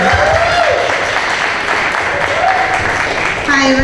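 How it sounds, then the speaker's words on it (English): An audience at an evening entertainment show applauds as a founder comes up to speak, a dense, continuous wash of clapping with cheering voices mixed in. "Give her a round of applause, guys."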